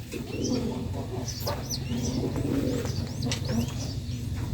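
Pigeons in a loft coo in low, soft, overlapping calls, with a few higher chirps from other birds over a constant low hum.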